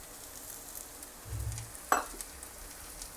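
Tomatoes dropped into onions frying on full flame, giving a low broadband sizzle with a sharp splash-like hiss near the middle, moderately close, with no voices.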